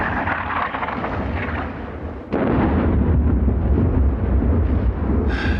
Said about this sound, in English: Seems like preparatory fire. German.